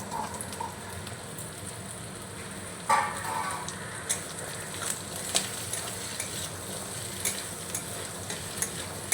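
Small-cut potatoes and onion frying in a pan with spices, a soft constant sizzle broken by several sharp scrapes and clatters of a spoon stirring, close up and without voices.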